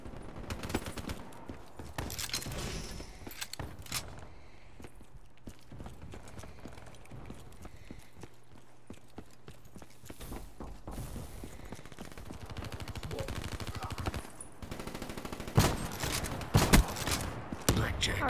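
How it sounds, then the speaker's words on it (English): Shotgun blasts and rapid gunfire crack through a busy multiplayer match of Call of Duty: Black Ops III, dense bursts and thumps layered over constant game noise and movement, heaviest toward the end. "this shotgun's actually doing pretty well"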